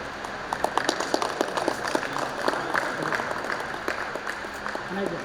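An audience applauds at a felicitation ceremony during a community gathering, with dense scattered claps running steadily throughout under a loud amplified voice speaking over them.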